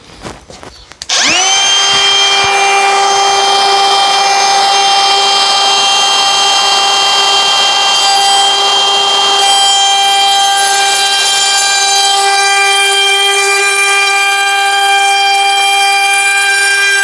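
A wood router spins up sharply after a brief knock and holds a loud, steady high whine with strong tonal harmonics, close and continuous, with no talk.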